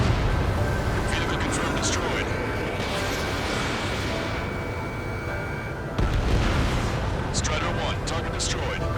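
Heavy, rumbling explosions as a vehicle is destroyed in the air-combat game Ace Combat 7, a continuous thunderous roar with a fresh blast partway through, mixed with jet and combat noise.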